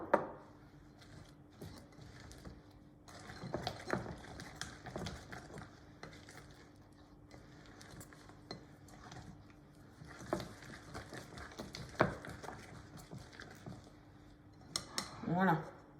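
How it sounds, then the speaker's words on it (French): A spoon clinks and scrapes in a bowl while marshmallows and thinly sliced hazelnuts are stirred into melted chocolate, light irregular taps and knocks going on throughout with someone talking over them. "Donc je les mets dedans et je mélange."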